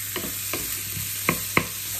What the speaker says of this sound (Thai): แค่ผัดๆให้เขาสีเหลืองสวยนะคะ